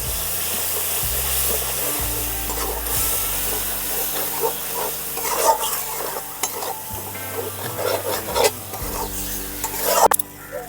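Spice paste with salt and a splash of water sautéed in a pan for a Bengali fish, potato and brinjal curry, soft sizzling under repeated scraping and stirring strokes, with clatter growing busier toward the end.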